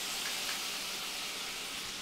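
Onions, garlic and celery frying in butter in a pan give a steady, close, even sizzle that holds for the whole moment with no talking.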